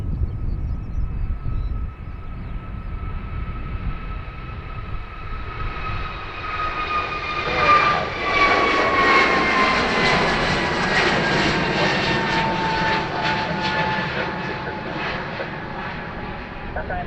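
Fixed-wing airliner departing Dublin Airport, its engine roar swelling and peaking mid-way with whining tonal harmonics, then holding a loud, broad rumble as it climbs away.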